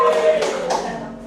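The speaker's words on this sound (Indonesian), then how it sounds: "Oke, tepuk tangan." A classroom group claps hands together in a short, loud burst of quick overlapping claps that fades out within about a second.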